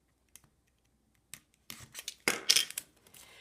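A small paper trimmer cuts card stock during paper crafting, with a few faint ticks first, then a short run of sliding, scraping cuts that build to a louder swipe close by.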